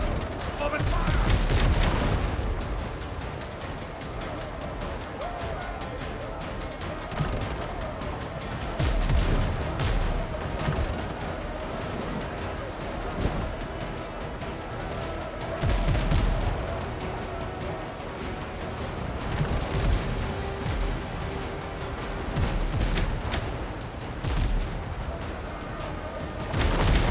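Loud, sustained cannon and gunfire volleys from a naval battle in the pirate game Windrose, with repeated heavy booms and crackling shots over about half a minute, while voices shout beneath the barrage.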